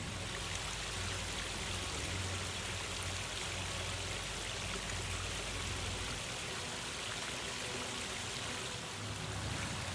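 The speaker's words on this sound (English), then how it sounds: "We've got an AquaSurge 3000 giving us our waterfalls" Water from a backyard fountain driven by an AquaSurge 3000 pump spills over a weir, a steady, even rushing wash that continues unbroken and fairly close, with no voices.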